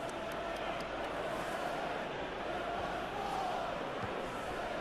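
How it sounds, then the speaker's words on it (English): Steady stadium crowd noise from a simulated Tottenham versus Brighton match in the eFootball PES 2021 video game, a continuous broad roar at even loudness throughout with no distinct peaks. "Crowd appreciates good football all round there."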